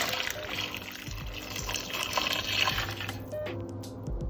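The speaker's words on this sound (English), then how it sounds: "So I'm going to pour the hot water on the chicken." Hot water poured over raw chicken in a home kitchen for a Haitian chicken sauce, a steady continuous splashing pour lasting throughout, fairly close and moderately loud, with no talking.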